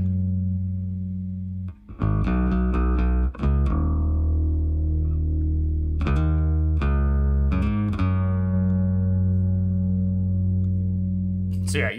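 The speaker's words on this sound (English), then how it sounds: "even just the stock Logic chorus plugin there really completes the tone" An electric guitar run through a stock Logic chorus plugin, set for a particular band's tone, strums sustained chords and picked notes that ring out with a shimmering, doubled quality, close and alone.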